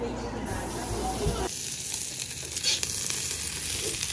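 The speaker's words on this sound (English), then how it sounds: "Making stir fry." Stir fry sizzling in a pan, a steady close hiss and crackle of frying food with stirring noises, while people talk over it.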